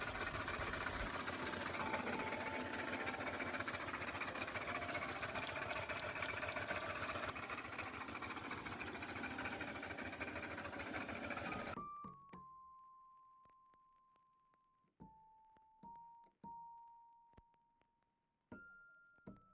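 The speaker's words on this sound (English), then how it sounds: "Immediately they already started grinding our cassava" A cassava grinding machine runs loud and steady for about twelve seconds, a dense continuous mechanical roar, then cuts off, leaving a quieter humming tone with scattered knocks and thuds.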